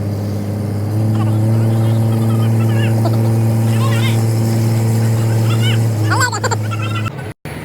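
A fishing boat's engine drones steadily out at sea as it heads back toward shore, a loud, even, low hum running throughout while voices talk over it.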